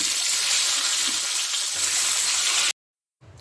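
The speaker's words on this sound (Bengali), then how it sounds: "এখন আমি মাছগুলোকে ভেজে নিচ্ছি।" Pieces of fish frying in hot oil give a steady, dense sizzle that runs loud and unbroken, then cuts off abruptly into silence before a brief faint return of sizzling.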